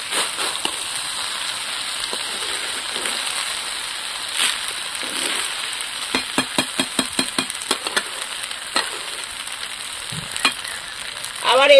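Hilsa fish pulao with rice simmers under a lid with a faint, steady hiss, joined midway by a quick run of rhythmic scraping taps and a louder clatter at the end.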